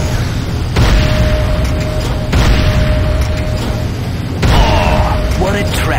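Power plant exploding in the video game C&C Renegade: heavy booming blasts hit near 1 s, 2.3 s and 4.5 s over a steady rumble of game noise, with a thin mechanical tone running underneath.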